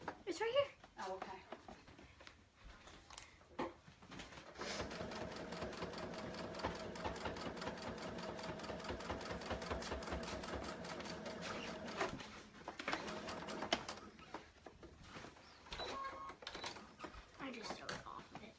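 A home sewing machine stitches a child's shark tail blanket in a steady mechanical whir running for several seconds in the middle, with people talking before and after it.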